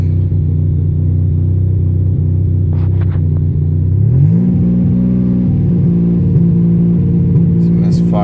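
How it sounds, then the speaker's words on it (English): Nissan Maxima engine idling roughly after a hard start, a loud continuous low hum with an uneven, stumbling misfire pulse; the pitch steps up partway through as the revs rise slightly. "It's misfiring like a bitch."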